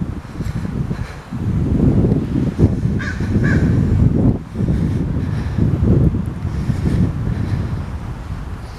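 Crows caw repeatedly among the headstones of a cemetery, loud and near, over steady wind buffeting the microphone and a distant rushing background.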